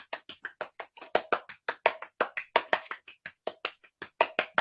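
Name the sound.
round of applause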